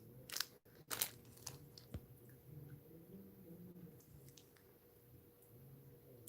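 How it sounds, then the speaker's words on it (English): Someone chews a piece of food that has turned harder and chewier, giving soft, wet crunching and squishing bites close to the mouth, loudest in the first two seconds and then quieter, with no talking. "I'm still chewing"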